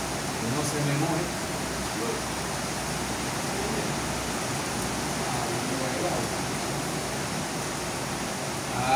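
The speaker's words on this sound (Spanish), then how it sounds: "Oye, está cayendo el palo de agua parejo" Heavy tropical rain pours down in a steady, dense roar of broadband hiss that holds evenly throughout, with no individual drops standing out.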